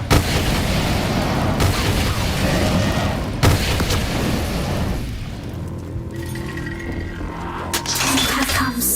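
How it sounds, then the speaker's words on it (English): Activation of the fire staff torches in Black Ops 3 Origins zombies gives a loud, booming, fiery burst that sustains and then fades, with sharp impacts and game effects near the end. "you'll hear the activation sound as such, and then you're ready to go on to the next step"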